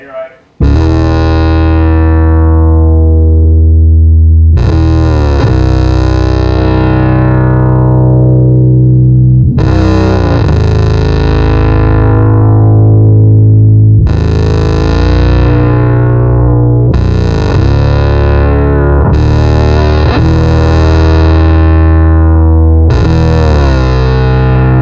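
Electro Harmonix Bass Micro Synthesizer running a bass guitar, a loud buzzy synth tone with long sustained notes that restart every few seconds and slowly fade, played alone.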